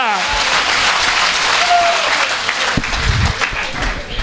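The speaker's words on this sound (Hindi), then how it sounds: "एक बार दोनों हाथ ऊपर उठा के तालियां बजा के बताओ ना मेरे को।" Crowd applause at a stage talk, hands raised overhead, sustained and fairly loud for a few seconds, with a voice briefly audible over the clapping.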